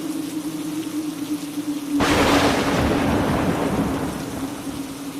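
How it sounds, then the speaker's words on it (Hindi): A sudden crack of thunder breaks over a steady hum, then torrential rain pours down in a loud, dense hiss that gradually eases. "कड़कती बिजली के साथ साथ मूसलाधार बारिश भी शुरू हो गई।"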